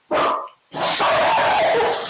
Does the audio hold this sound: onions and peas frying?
no